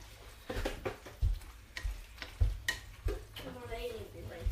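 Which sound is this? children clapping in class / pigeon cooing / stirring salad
stirring salad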